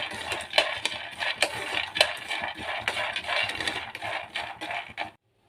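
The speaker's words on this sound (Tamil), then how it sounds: "இப்போ பாருங்கள் நல்லா வெடிக்கிற சவுண்ட் நல்லா கேட்குது" Almonds and peanuts crackling and popping while dry-roasting in a hot pan, with a dense scatter of sharp little snaps and rattles, then sudden quiet at the end.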